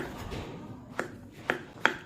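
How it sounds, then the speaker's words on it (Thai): Knife chopping king oyster mushrooms into pieces on a cutting board, a few sharp, distinct cuts spaced out, close and clear over a quiet kitchen background. "ก่อนอื่นนะคะเราก็มาหั่นเห็ดออเรนจิเราเป็นชิ้นๆก่อนนะคะ"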